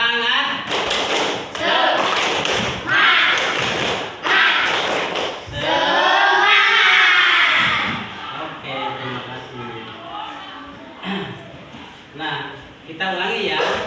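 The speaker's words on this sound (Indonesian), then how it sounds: "Tepuk semangat." A fifth-grade class doing the rhythmic tepuk semangat clapping chant as an icebreaker, loud repeated clap patterns and thumps interleaved with children's chanting voices, close and energetic.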